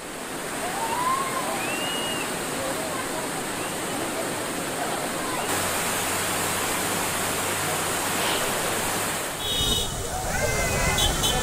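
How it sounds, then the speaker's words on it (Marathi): Foaming monsoon waterfalls pour down the rain-soaked slopes of Malshej Ghat, producing a steady, dense roar of rushing water that holds constant throughout with no pauses. "घाटात ठिकठिकाणी फेसाळलेले धबधबे ओसंडून वाहतायत"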